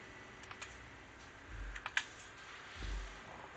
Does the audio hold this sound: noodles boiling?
no